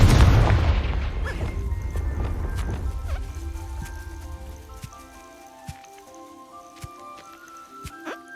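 A Confringo blasting spell explodes in the game Hogwarts Legacy with a loud, deep boom that rumbles and fades over several seconds, followed by softer scattered clicks and small tones.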